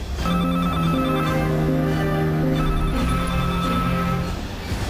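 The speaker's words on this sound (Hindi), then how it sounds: "मोबाइल पर माँ का फोन भी बजने लगा" A mobile phone rings with a steady, sustained electronic ringtone, loud and close, holding a tonal melody throughout without any talking.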